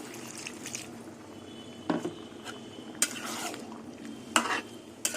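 A little water goes into a pan of fried soybean chunks and boiled, fried eggs cooking in spiced gravy, with soft sizzling under repeated stirring and a few sharp clinks of a utensil against the pot.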